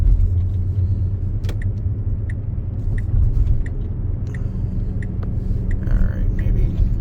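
A Tesla on autopilot rolls along a rerouted detour, its steady road rumble and tire noise filling the cabin with faint clicks and ticks throughout while someone talks over it.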